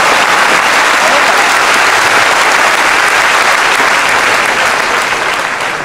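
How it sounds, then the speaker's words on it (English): Loud, sustained applause from a large audience at a high school commencement, dense clapping filling the whole stretch without letting up. "let's also give the Mulcahy family a round of applause"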